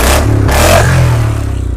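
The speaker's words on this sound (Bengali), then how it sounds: "পাঞ্জাব সাইলেন্সার লাগানো আছে, শর্ট পাঞ্জাব, সাউন্ড শুনবে তো" A motorcycle fitted with a short aftermarket Punjab silencer revs sharply, loud and close, with a throaty burst followed by a rapid popping idle.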